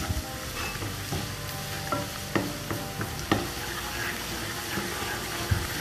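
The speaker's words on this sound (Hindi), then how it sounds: "इसको सौते करेंगे" Chopped garlic and ginger sautéing in a pan, a steady close sizzle with regular clinks and scrapes of a spoon stirring against the metal.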